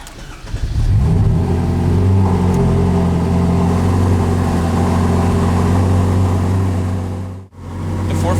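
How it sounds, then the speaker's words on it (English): A Ferrari 458 Italia fires up with a loud push-button start, then holds a steady, rumbling idle close by, cutting off briefly near the end before resuming. "push and release the engine start button"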